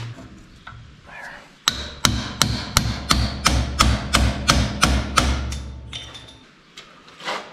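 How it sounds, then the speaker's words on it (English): Repeated metallic hammer blows as metal bushings are hammered out of a Case IH SDX30 seed drill, about a dozen steady strikes in a row, loud and close, with brief quieter handling before and after. "Down in here, there is 2 bushings, which we need to hammer out."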